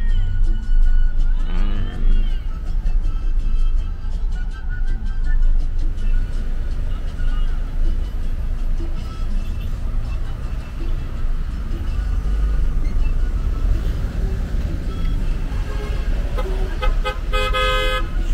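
Taxi cab driving through the streets of Cartagena, Colombia, with steady road and engine noise throughout, a car horn tooting near the start and traffic sounds around, no talking heard.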